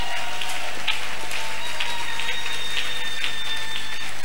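A church congregation at a Sunday service applauding the Lord, sustained, fairly loud clapping from a crowd in a reverberant hall, steady throughout with no clear pauses.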